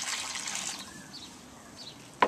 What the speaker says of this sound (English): get a bucket of water